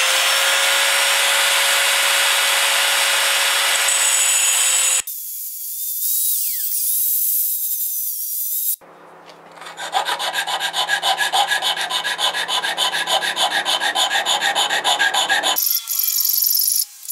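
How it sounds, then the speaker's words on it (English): Hand hacksaw cutting a piece of aluminium in separate passes, with steady rasping strokes, a brief quiet gap, then a faster run of close, even back-and-forth strokes. "I've got to make two ends on this new piece of aluminium,"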